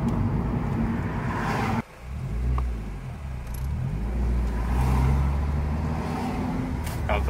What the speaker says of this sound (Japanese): めっちゃエンジンの音いいね